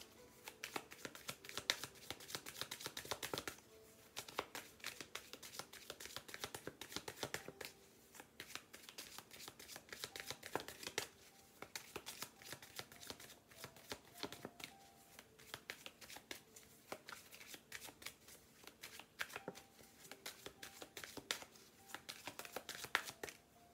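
Lenormand cards being shuffled by hand close up, repeated soft riffling bursts with short pauses between, quiet and steady with no talk.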